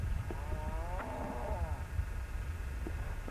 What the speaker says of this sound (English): Now you can hear the cattle in the background